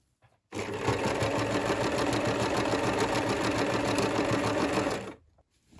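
Sewing machine stitching a zip onto a crochet granny square bag, a fast even mechanical clatter starting abruptly, running steadily close up for about four and a half seconds, then stopping.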